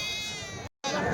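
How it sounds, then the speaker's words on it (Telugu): Male goats at a weekly sheep and goat market in Chelur, Karnataka, giving a sustained, loud nasal bleat that breaks off into a brief silence before another bleat rises, close to the listener. "సో ఇవన్నీ మేకపోతులు అవి"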